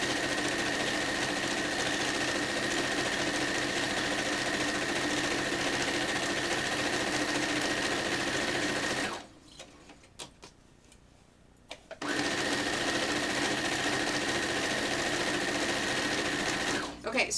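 Domestic sewing machine stitching a t-shirt quilt, a loud, steady rapid whir that stops for about three seconds mid-way with a few small clicks, then resumes at the same pace.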